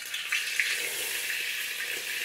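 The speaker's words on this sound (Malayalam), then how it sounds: "ആദ്യം ഓയിൽ ചെറുതായിട്ട് ചൂടായി കഴിയുമ്പോൾ നമുക്ക് വെജിറ്റബിൾസ് ആഡ് ചെയ്ത് കൊടുക്കാം." Vegetables fry in hot sunflower oil on a fairly high flame, giving a steady, moderately loud sizzle with light crackles and occasional stirring scrapes throughout.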